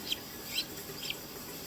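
Faint, soft clucks and peeps from a stuck chick, three brief calls spaced apart against a quiet, steady background hiss.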